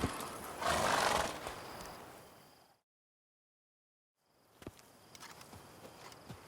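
Roach, the horse in The Witcher 3: Wild Hunt, snorting and neighing with a loud close burst, then a stretch of silence and soft hoof clops returning alongside buzzing insects, with no voices.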